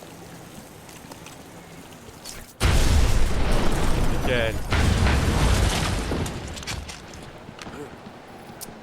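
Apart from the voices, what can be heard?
explosion destroying a fragile wall in Batman Arkham Asylum video game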